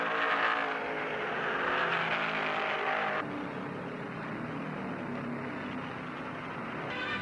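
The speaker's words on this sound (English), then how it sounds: "the Matador has the lead" An AMC Matador stock car races at speed on an oval, with a loud, continuous engine roar that shifts pitch midway as the field passes, leaving a steady drone of cars.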